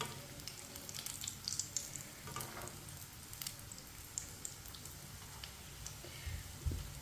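Potato kababs fry in a pan over a lowered flame, giving a soft continuous sizzle with faint crackles and occasional scraping or turning sounds, quiet and close, with no speech.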